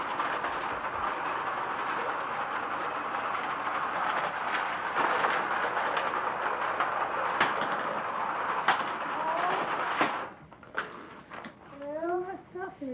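A toy train whirs and rattles steadily along its track for about ten seconds, then stops, followed by chirpy, high-pitched sounds.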